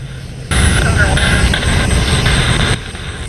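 An aircraft passing over near an airport, a broad loud roar that rises abruptly, holds for about two seconds, then drops back, with people talking throughout.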